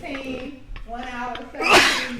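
One sharp, loud sneeze bursts out near the end, following talk between people close to the mic.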